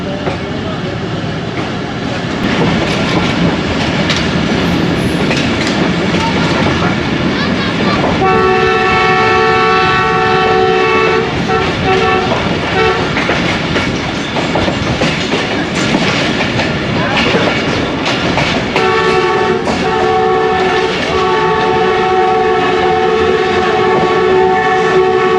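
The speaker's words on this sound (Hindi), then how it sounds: "ZCU के फियर्स विसल्स आपने सुने" A Narowal passenger train on the Lahore to Narowal branch line rolls along with a loud, close rumble and rattle, while its ZCU locomotive sounds two long, sustained whistle blasts.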